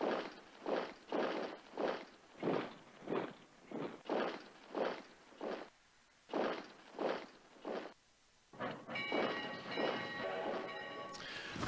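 A game sound effect in Strategic Command WWII plays as trains move units: a rhythmic, evenly spaced chugging with short gaps, then a denser rumble with tonal ringing.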